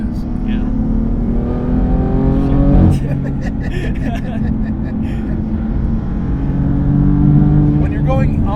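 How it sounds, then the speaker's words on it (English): A big, heavy, fast car accelerates hard, its engine note rising through the gears with a loud, steady roar and a quick shift partway through, as people talk over it. "It's still kind of a big car and it's still a heavy car, but when you get into the go pedal, goddamn, does it go?"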